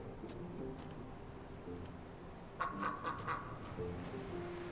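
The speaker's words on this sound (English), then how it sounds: "I see a duck." Ducks quack in the video game Lost Ember, a short cluster of calls midway with a few fainter ones before and after over a steady ambient game background.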